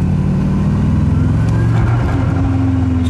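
An Audi Sport quattro accelerating hard in third gear, its turbocharged engine droning loud and close with a steadily climbing pitch across the whole stretch.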